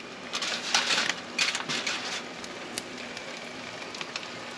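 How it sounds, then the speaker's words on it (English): Pork belly skin for chicharron crackles and pops steadily while it cooks, a dense, close, irregular sizzle with frequent sharp snaps and no talking. "See, this guy is crackling nicely, so I'm going to put a cover over this"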